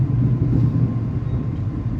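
Inside a new KRL SFC120-V electric commuter train in motion, a smooth, steady low rumble of traction and running noise fills the cabin without a break.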